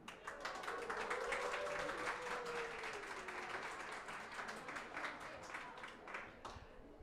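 Conference room audience in Karlsruhe cheering and clapping on cue, a dense, steady burst of applause and voices filling the room for several seconds before tapering off; one voice rises above the crowd.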